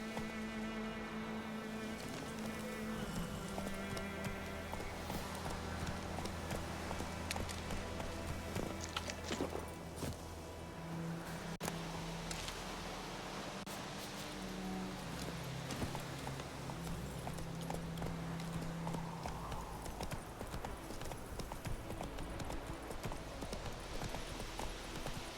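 In The Witcher 3, the horse Roach gallops with a rapid, steady clip-clop of hooves under a continuous game soundtrack and ambient tones.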